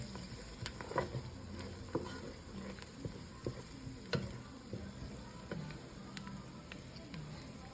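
Onions cooking down in a pot for a double batch of chicken pot pie give a steady soft sizzle and frying crackle, with scattered clicks and stirring taps close by, no talk.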